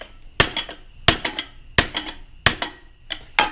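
Hammer taps on a socket to seat it while working on a Ditch Witch, five sharp metallic knocks about 0.7 s apart, each followed by a few quick ringing rebounds, close and clear with no talking.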